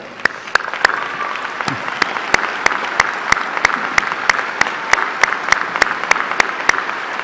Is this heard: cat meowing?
no